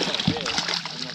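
A released fish splashes the water close by during a quick catch-and-release on a New Brunswick fishing trip, one brief sloshing burst within steady outdoor noise.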